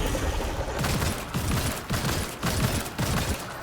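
Rapid gunfire from the video game Immortal: Unchained rattles in loud, close bursts, a steady stream of shots broken by brief pauses roughly every half second to second.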